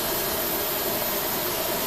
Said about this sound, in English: Starting engine.